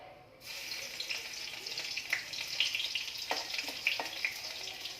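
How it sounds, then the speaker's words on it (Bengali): Garlic sizzles in hot oil in a pan while dal is cooked, a steady bright frying hiss that starts suddenly, with a few louder pops and crackles and no talk. "এবারে রসুনটা দিয়ে দিচ্ছি, রসুনটা লাল হয়ে যাবে।"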